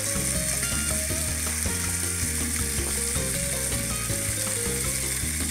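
Roma tomatoes sizzling in a frying pan as the base for a birria consommé, with a dense, loud, continuous crackle and some clattering of utensils, no voices.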